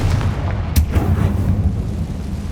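A Confringo fire spell explodes in the video game Hogwarts Legacy, a sharp burst over a steady low rumble of game audio, with no speech.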